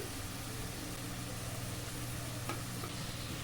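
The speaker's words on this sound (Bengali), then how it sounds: "মশলা খুব ভালো করে কষিয়ে নেব" Turmeric, chili powder, meat masala, salt and sugar are stir-fried in a pan, giving a dense, steady sizzle with a low rumbling undertone and a brief scrape of the spatula near the end, with no talking.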